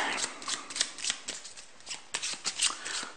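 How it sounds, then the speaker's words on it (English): Labyrinth board game cards being shuffled by hand, a quick series of crisp riffling flutters and soft slaps, close and fairly quiet, with no talk over them. "So you shuffle all these cards"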